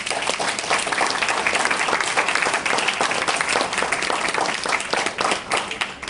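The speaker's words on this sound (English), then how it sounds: "for those of you that are students, give yourselves a round of applause." Students applaud at a literacy council dinner in St. Petersburg, a dense, lively round of clapping from a sizable crowd that holds steady for several seconds, then begins to thin.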